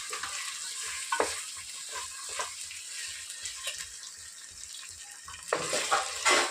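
Lentils fry and get stirred in a pan, a steady sizzle broken by repeated scraping strokes of a spoon, fairly close and without talk.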